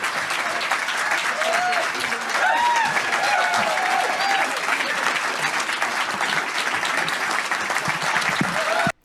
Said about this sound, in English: Are they applauding him because he got out of bed?